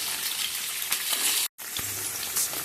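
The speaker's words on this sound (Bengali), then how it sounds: "পনিরটাকে ভাজছি, তবে হালকা করে, বেশি ডিপ করে ভাজবো না।" Paneer cubes lightly shallow-frying in white oil in a frying pan, giving a continuous bright sizzle with a short break midway and occasional soft stirring.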